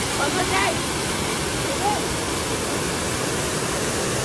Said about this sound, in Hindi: नीचे वहाँ पे जहाँ पानी गिर रहा है